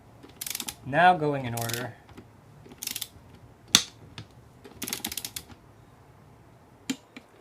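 A torque wrench clicks while bolts are tightened in order on an NP249 transfer case, sharp isolated clicks spaced out one by one, with a voice speaking briefly between them.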